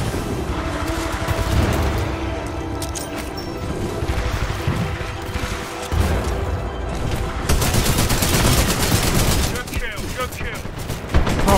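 Dense gunfire from the video game Titanfall 2, with rapid automatic bursts, heavy impacts and booming blasts packed together in a loud, continuous firefight that grows more intense toward the end, with a voice faintly mixed in.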